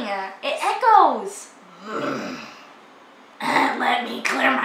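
A throaty, rumbling growl-like throat clearing, close and fairly loud, followed by a quieter rasp and more guttural vocal noise, on a scalloping trip in Crystal River, Florida.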